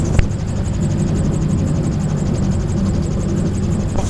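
A gyrocopter's engine runs near idle power during a descent, a steady loud drone with rotor and airflow noise throughout and no talking.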